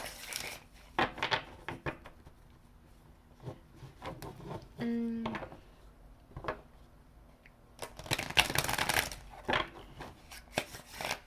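Someone shuffles a tarot card deck in short riffling bursts with small taps and card-handling noises in between, and a stronger flurry of shuffling near the end. A short hum is heard in the middle.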